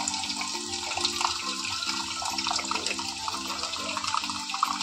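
Tap water runs steadily into a sink while leafy greens are washed, a close continuous splashing wash over a low droning hum, with no voices.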